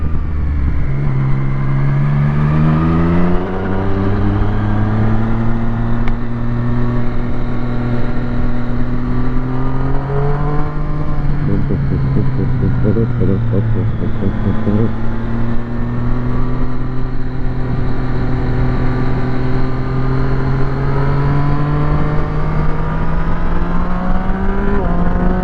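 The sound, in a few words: car engine and exhaust note while driving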